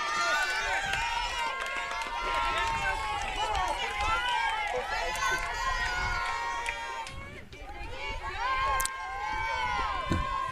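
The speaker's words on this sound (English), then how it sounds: "We're getting a lot of crowd noise, Chris." Steady crowd noise in the stands at a high school softball semifinal, Belfast at Gardiner, with many voices chattering and calling out close by, loud and continuous throughout.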